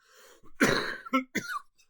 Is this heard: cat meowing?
no